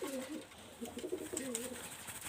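A Nepali yellow-eyed pigeon gives a series of rolling, throaty coos, nearby and fairly soft, repeating in short phrases.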